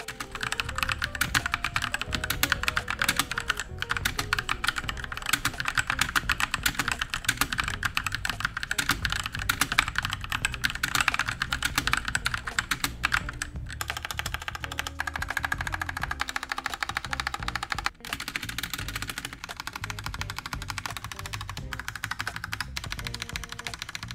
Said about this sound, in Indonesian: ini dia typing sound-nya